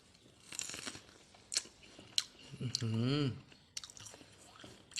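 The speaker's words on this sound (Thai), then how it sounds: "เดี๋ยวผมจะลองชิมรสชาติดูก่อนนะครับว่า จะอร่อย หรือเปล่านะครับโอเคครับฟังเสียงนะครับเพื่อนๆ" Close chewing of freshly picked Pure White Hokkaido sweet corn, with crisp, juicy bites in irregular bursts and a brief hummed voice in the middle.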